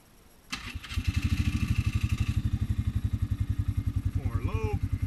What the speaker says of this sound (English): For a nice little quad ride.